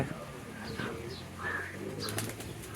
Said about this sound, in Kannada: ಪ್ರೀತಿಯ ಪಾರಿವಾಳ ಹರಿಹೋಯ್ತು ಗೆಳೆಯ